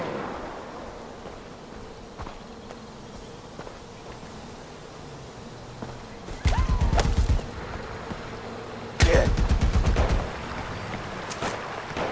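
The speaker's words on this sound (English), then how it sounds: "Providing machine gun fire!" Machine gun fire in the video game Far Cry 4, with two loud rapid bursts of automatic shots in the second half, each about a second long, rising over quiet ambient background noise.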